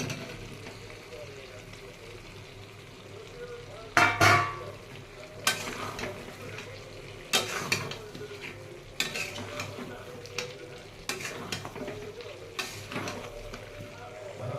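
Potatoes tossed into oil with a cashew and poppy seed paste, with a spoon clattering against the pan over steady frying sizzle and a faint voice in the background.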